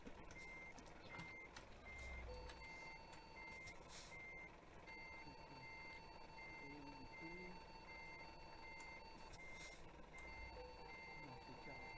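In Euro Truck Simulator 2, a truck on a special transport job backs up with its reversing alarm sounding, a regular series of evenly spaced beeps over a low engine rumble, heard faintly in the background throughout.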